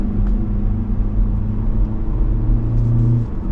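A 2024 Hyundai Elantra SEL compact sedan pulls away, its engine rumbling low and steady from inside the cabin as it accelerates, with no talking.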